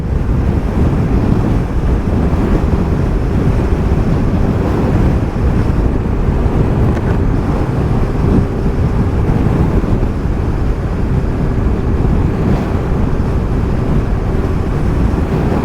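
Wind roars steadily across the microphone while riding a 2020 Honda SH125i scooter at highway speed, with a dense, unbroken buffeting that nearly covers a low engine drone.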